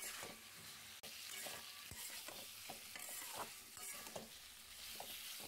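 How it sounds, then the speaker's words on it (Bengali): Taro being stirred and sautéed with spices in a pan, a steady soft sizzle of frying with repeated scraping stirs of a spoon against the pan, fairly quiet and with no talking. "মশলার সঙ্গে কচু ভালো করে কষিয়ে নিলাম।"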